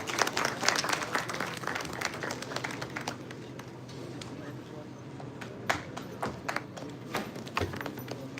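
Audience applause at a university inaugural ceremony, a steady spread of clapping from a seated crowd that thins and turns to scattered claps with a low murmur beneath.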